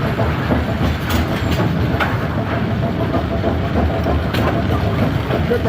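A converted A2 bowling pinsetter runs, its machinery giving a steady close mechanical rumble with rapid rattling, clattering clicks throughout.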